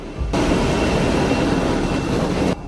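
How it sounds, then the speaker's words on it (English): The presidential plane lands at Athens with a loud, sustained broadband jet roar that holds steady for a couple of seconds and then cuts off abruptly. "Sunday morning, the presidential plane lands in Athens."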